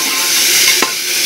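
Small new potatoes with skins and flat beans sizzle in hot oil in a pressure cooker, giving a loud, steady, close frying hiss with one brief stirring clink, and no talking.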